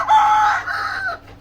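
A pet rooster crows once, loud and close, a single drawn-out call lasting just over a second that tails off at the end.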